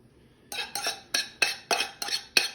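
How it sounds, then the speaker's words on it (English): A spoon beats on a cooking pan in a home kitchen: seven sharp, ringing metallic clanks in a quick, fairly even rhythm, close and loud, with no talking. "Sometimes I beat on this pan too much"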